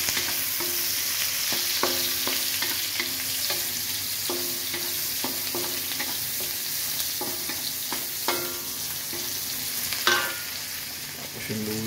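Onion sautéing in oil, a continuous close sizzle punctuated by regular clinking stir strokes, with no talking.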